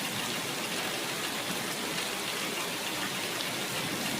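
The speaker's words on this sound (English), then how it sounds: "The rain is coming down, so I'm gonna get all the rainwater that I can." Rain pours down in a steady, dense hiss of drops hitting surfaces outdoors in Indiana, loud, close and unbroken for the whole stretch, with no voices.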